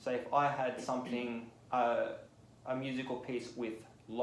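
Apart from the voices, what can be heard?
No everyday noise stands out behind the speech.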